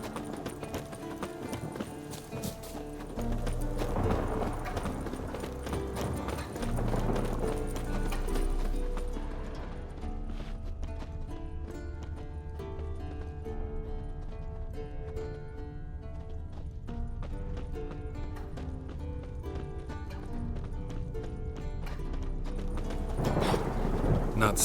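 Horse hooves clip-clopping in The Witcher 3 game, a steady trotting rhythm under a music score, with a brief whinny and some mechanical clanks, moderately loud throughout.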